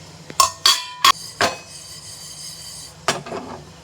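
A metal pan set on the stove to roast cumin and spices for amla pickle, a few sharp metallic clanks and scrapes separated by short quiet gaps.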